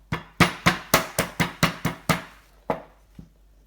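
A raw crab shell is crushed while the crab is cleaned, giving about a dozen sharp, close pounding knocks in a quick, steady series that slows and fades toward the end.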